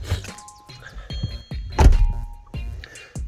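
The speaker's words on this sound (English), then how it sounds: "Nice solid thud when you close the door." A 2023 Jeep Grand Cherokee L Limited door shuts with a solid, heavy thunk, surrounded by softer clicks and handling sounds from the vehicle.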